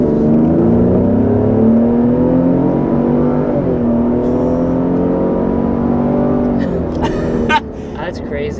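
A 2021 Ford Explorer ST accelerates hard up a steep hill, its engine pitch climbing steadily in a strong, sustained pull heard from inside the cabin, with people speaking near the end.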